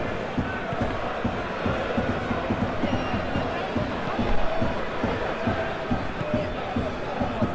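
Stadium crowd in the football video game eFootball 2021, a dense, steady roar of many voices with rhythmic chanting swells, loud and continuous throughout.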